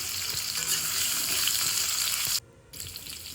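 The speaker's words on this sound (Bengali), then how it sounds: "কড়াইতে আমি আবারও কিছুটা পরিমাণ সরষের তেল দিয়ে দিলাম। আলুগুলোকে ভেজে নেব বলে" Potatoes fry in hot mustard oil in a wok with a loud, dense, close sizzle that cuts off abruptly near the end and then resumes more faintly.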